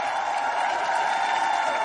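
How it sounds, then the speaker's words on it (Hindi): A studio audience on a TV comedy show applauds and cheers for Dharmendra, a dense, steady wash of clapping lasting about two seconds with no talking over it. "जोरदार तालियां एक बार धर्म पाजी के"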